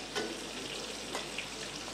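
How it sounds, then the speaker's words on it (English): Steady sizzling and bubbling of herb fried chicken simmering in a mushroom sauce in a pan, with a couple of faint stirring scrapes, continuous and close. "Our chicken is cooking inside the mushroom sauce."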